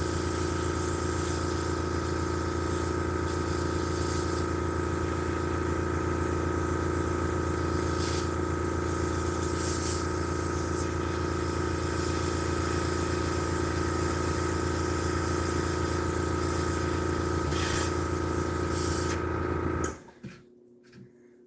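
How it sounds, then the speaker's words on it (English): An airbrush and its compressor run continuously as camouflage paint goes onto model tanks, giving a steady hiss over a low mechanical hum that cuts off abruptly near the end. "This is the best airbrushing I've done."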